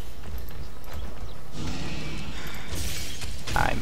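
An ice spell shatters in the fantasy video game Nine Parchments, a crackling burst of icy breaking sounds over steady game music and effects.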